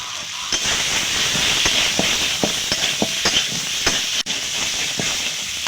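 Egg curry masala sautéing in a pan with salt and turmeric, a steady close hiss and sizzle broken by scattered clicks and scrapes of stirring, carrying on without talk.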